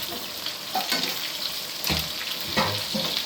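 A spoon stirs masala through sizzling chicken for dum fry biryani in a hot pan, with steady frying crackle and several scraping strokes, close and moderately loud, with no voices.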